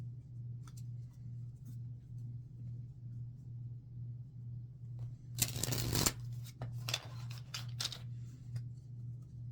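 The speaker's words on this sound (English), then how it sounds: "I'm getting a proper shuffle for this." Tarot cards shuffled by hand in a quick crisp riffling burst near the middle, with a few lighter flicks and snaps afterward, over a steady low electrical hum in a quiet room.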